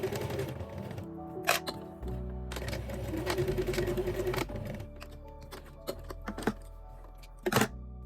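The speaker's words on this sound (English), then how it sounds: "After fitting, stitch the pleats." A sewing machine stitches dress pleats in short bursts, its needle running in a fast mechanical whir that starts and stops, punctuated by clicks and taps, close and fairly quiet.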